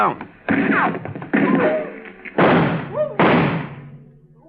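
Four loud, sharp gunshots from a caliber 88 automatic with reverberant tails fire at uneven intervals, close and harsh, in an old radio-drama style.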